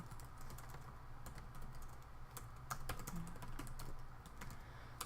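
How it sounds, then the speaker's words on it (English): Rapid, uneven clatter of keys on a computer keyboard, steady quiet typing with irregular sharp clicks throughout. "Everybody's seeing me like do these horrible typing things."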